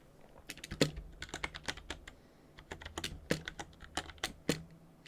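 Crisp, uneven keystrokes rattle across a computer keyboard at close range, bursts of clicks with a few heavier key presses standing out, no voices.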